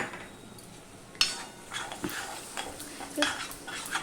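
Curry with sour yogurt being stirred in a pan, with spoon clinks and scrapes against the metal over a faint background sizzle, close and intermittent, no speech.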